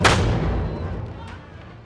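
A single loud gunshot blast from a Hindi film scene, sharp and close with a booming echo that slowly decays.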